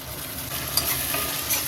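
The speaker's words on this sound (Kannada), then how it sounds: "ಹಸಿಮೆಣಸಿನ್ಕಾಯಿ ಹಾಕೋತಾ ಇದ್ದಾರೆ ಈಗ" Green chillies fry in hot oil in a pan for tomato chitranna, giving a loud, steady sizzling hiss with a couple of brief scraping stirs, close up and with no voices.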